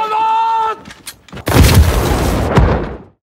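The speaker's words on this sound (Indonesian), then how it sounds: "rombongan Mayor Sunder yang mendengar ledakan itu dari dalam kereta pun seketika panik" A loud, deep explosive boom with a long rumbling tail follows a brief sustained tone and a couple of sharp cracks, ending in a second heavy burst.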